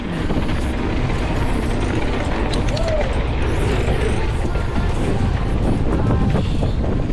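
Steady, loud wind buffets the microphone while mountain biking the Slaughter Pen trails in Bentonville, Arkansas, a constant roaring rumble with faint other sounds barely audible beneath.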